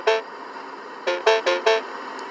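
A new Mini Cooper's startup in a driving video game gives a short opening tone followed by four rapid, bright, musical chime-like bursts, clean and close with no talk.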